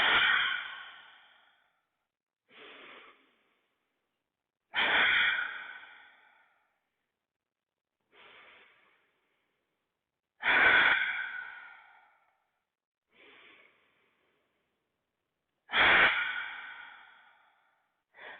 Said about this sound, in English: As you inhale, your belly rises, and as you exhale, your belly falls.